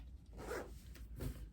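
An invisible zipper being drawn closed on a sewn linen garment, two quick faint rasping pulls in succession, close up in a quiet room.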